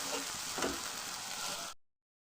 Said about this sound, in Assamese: এনেকৈ মছলাখিনি মই অকণমান 2-3 মিনিটমান ভাজি ল'ম